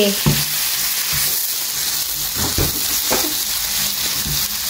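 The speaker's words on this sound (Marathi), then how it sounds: "आतां घालता हितून हांव टोमॅटोज चले घालया म्हणटा आनी करूया बरें मिक्स" Tomatoes stirred into frying brinjal bharta, a loud continuous sizzle broken by repeated scraping strokes of the spoon against the pan.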